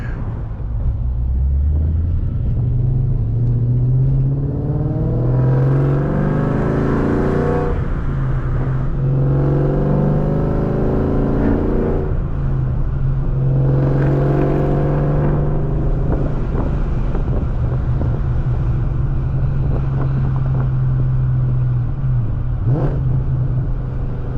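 A 2003 Ford Mustang Cobra Terminator of around 500-plus horsepower drives with a steady low engine drone, rising in several revving pulls through the gears, loud and close, with wind rushing over the car.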